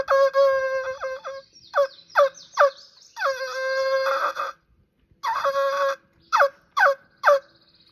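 A handheld turkey call is played held flat against the palm and blown through the hole, giving a string of clear, loud gobble-like yelps and clucks in short bursts with brief pauses, alone without talk.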